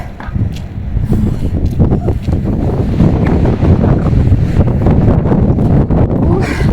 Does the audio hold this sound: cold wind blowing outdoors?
yes